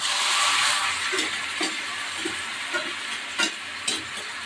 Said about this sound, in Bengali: এই যে মাংস দই দিয়ে মেখে রেখেছি, এগুলো দিয়ে দিলাম।